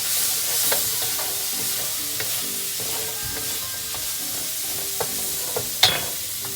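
About a tablespoon and a half of butter heating in a pan, a steady moderate sizzle with occasional light clicks and scrapes, ending in a sharper clink, with no talking.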